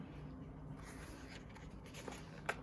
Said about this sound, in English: I need to perfect the art of turning pages.